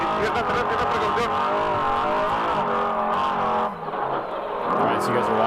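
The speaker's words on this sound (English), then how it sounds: "That's what it sounds like to be inside the car live down in San Felipe right now." A trophy truck races at San Felipe, heard from inside the cab: a loud, continuous engine roar with shifting pitch as it revs through gears, with a co-driver's voice calling out pace notes over the noise.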